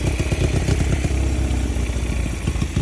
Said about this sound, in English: I'm literally just letting her idle down this hill right now, and you hear it.